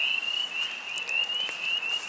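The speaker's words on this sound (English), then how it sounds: "There's little peat frogs." Little peat frogs call in a wet outdoor spot, their high, thin insect-like trills merging into one continuous ringing tone, with a few fainter chirps on top.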